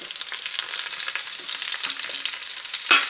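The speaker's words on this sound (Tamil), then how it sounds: "இனி இதில் குடமிளகாய் போட்டு வணக்கி விட்டுடலாங்க." Onions and capsicum frying in a pan for capsicum rice, a steady close sizzle with faint stirring scrapes and a brief louder clatter near the end, no voices.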